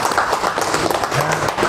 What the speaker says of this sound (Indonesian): Boleh tepuk tangan dong, ya kan?